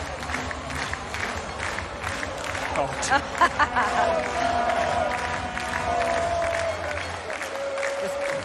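A crowd cheers and claps at the finish of a canoe sprint final at a world championship regatta, a broad steady roar with a few sharp shouts and whistles, and a voice calls out briefly.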